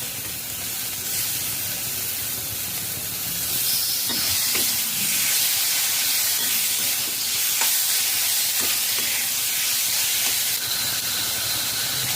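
Marinated Bombay duck fish, rubbed with salt, turmeric and chilli powder, sizzles steadily in hot spiced oil on a low-to-medium flame, a dense continuous frying hiss with occasional utensil clinks and stirring sounds.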